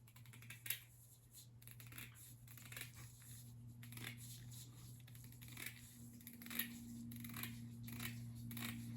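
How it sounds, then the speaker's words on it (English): Scissors snipping around fabric to cut out a dolls house rug, a series of small, close, crisp cuts at an uneven pace over a low steady hum, quiet and without talking. "But what I'm going to do now is just snip around."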